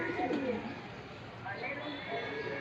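Homing pigeons cooing around a loft, soft repeated coos heard fairly close beneath outdoor background noise, with a person talking over them.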